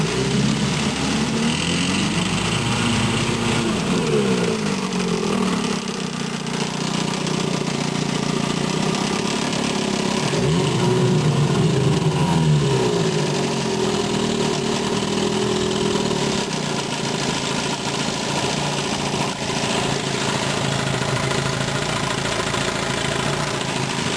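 A 1954 Evinrude Fleetwin 7.5 hp outboard motor runs in forward gear, a steady, fairly loud mid-pitched engine hum with a brief rise and fall in tone partway through, with no talking.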